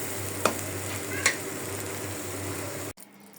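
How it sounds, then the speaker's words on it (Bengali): Mashed sweet pumpkin bharta is worked together by hand, giving a soft, continuous squishing and stirring sound with a couple of sharper taps, close up before it cuts off near the end. "এদিকে মিষ্টি কুমড়া ভর্তাটা মাখাই ফেলতেছি"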